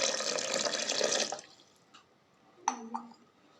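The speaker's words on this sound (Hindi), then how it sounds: "और अब मैं इसमें दे रहा हूँ पानी।" Water pours and splashes into a mixer jar while buttermilk is prepared, a loud rushing stream that stops abruptly, followed by a few faint drips and a light clink.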